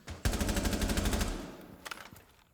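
Automatic gunfire shoots through a wall in the video game Rainbow Six Siege: a rapid burst of rounds for about a second, followed by a few scattered shots, moderately loud and alone.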